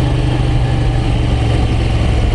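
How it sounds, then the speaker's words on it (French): A Moto Guzzi V9 Roamer's pushrod V-twin engine drones steadily while riding, a loud, even low throb with a continuous pulsing rumble and no speech over it. "on entend bien le moteur culbuté. C'est typique à Moto Guzzi, ça."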